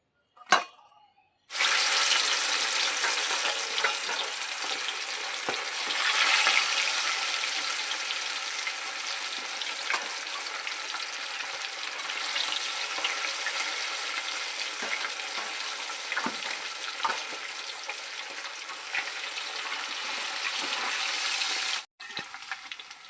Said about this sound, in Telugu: ఆయిల్ అయితే వేడెక్కింది ఇప్పుడు కలిపి పెట్టుకున్న చేపలను అయితే ఇప్పుడు ఆయిల్లోకి వేస్తున్నాను